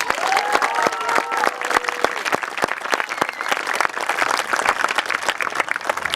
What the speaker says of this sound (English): can we hear a round of applause for them, please?